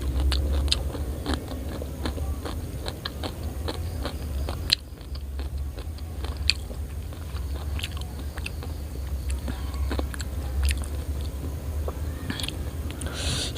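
Loud close crunching and chewing of hard coconut shell, sharp bites cracking through a steady wet mastication rhythm over the full stretch, with no talking.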